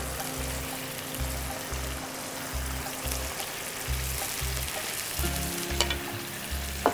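Chicken pieces sizzle and fry in a hot pan for a curd chicken dish, a steady close hiss broken by a few sharper crackles near the end, with no talk.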